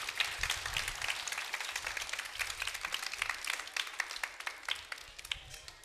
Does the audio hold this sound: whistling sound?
no